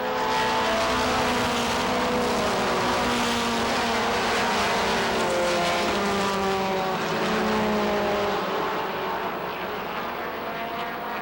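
Race cars roar around Lee USA Speedway at a 1993 Oktoberfest event, a continuous loud engine drone with rising and falling pitch as the cars sweep past, steady for the whole stretch.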